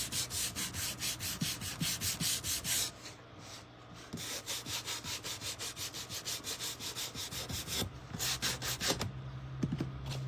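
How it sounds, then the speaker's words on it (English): Sandpaper rubbed over a wooden Santa plaque to distress it, steady rhythmic back-and-forth scrubbing strokes close and clear, with a brief pause before the strokes resume. "Now we're going to go ahead and sand this because I just want to get a little bit of a distressing on it."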